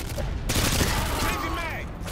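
Gunfire in a Modern Warfare 2 Spec Ops co-op match, heard as a dense burst of shots lasting about two seconds at steady loudness, with voices talking over the action.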